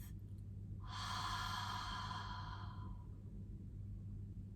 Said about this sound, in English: and letting go through the mouth.